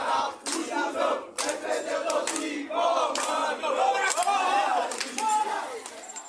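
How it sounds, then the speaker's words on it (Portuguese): Members of an organized football supporters' group march through town streets chanting war cries, a loud crowd of voices shouting in rhythmic bursts with clapping and chatter mixed in. "membros da torcida organizada do esporte do loteamento Agamenon caminhavam pelas ruas entoando gritos de guerra"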